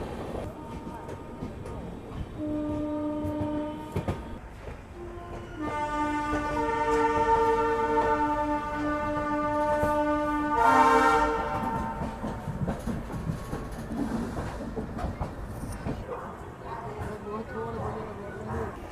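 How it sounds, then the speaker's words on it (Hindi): An ALCO diesel locomotive hauling the Kathgodam Shatabdi Express near Moradabad Junction sounds long, chord-like horn blasts over a continuous rumble and rattle of wheels on rails, loud and close, with voices talking underneath. "यार ये जो एल्को की आवाज़ है ना मुझे बहुत प्यारी लगती है।"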